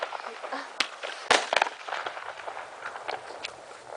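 Fireworks bursting in the dark, heard as a few sharp cracking pops against a noisy background, with voices of people talking nearby.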